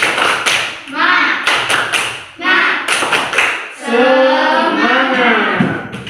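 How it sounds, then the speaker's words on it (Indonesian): Fifth-grade classroom children do a rhythmic spirit clap, with bursts of quick patterned claps and thumps broken by loud chanting voices. "Ya, tepuk semangat."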